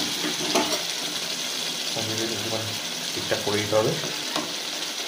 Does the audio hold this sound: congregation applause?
no